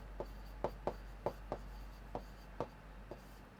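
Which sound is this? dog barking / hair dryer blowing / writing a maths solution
writing a maths solution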